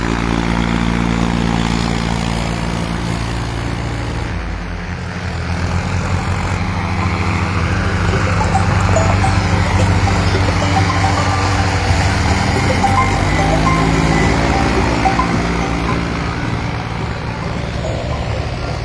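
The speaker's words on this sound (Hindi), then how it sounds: "ये आप देख पा रहे हैं एक के बाद एक ट्रैक्टर कितनी बड़ी संख्या में है जो इस समय फसलों पर, खड़ी फसलों पर चल रहे हैं।" Many tractors and JCB excavators run across standing crops on farmland in a river flow zone, their diesel engines droning loud and continuous, with heavy machinery rumbling nearby.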